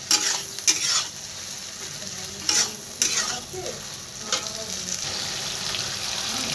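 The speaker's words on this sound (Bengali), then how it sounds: "এবার ভালো করে কষিয়ে নিলাম।" Ginger and garlic paste frying in a pan with onion while being stirred, a steady close sizzle broken by several clanking scrapes of the spoon against the pan.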